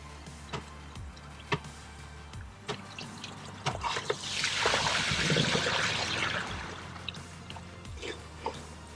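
Water rushes and trickles into a freshly opened pond skimmer, a broad gurgling swell that builds midway and fades, with scattered light ticks and clicks around it.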